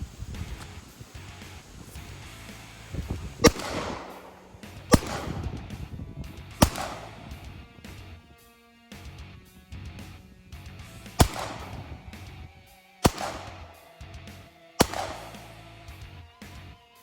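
Gunshots fired one at a time during a zombie hunter shooting challenge, about six sharp reports spaced a second or two apart, moderately loud with brief echoes between them.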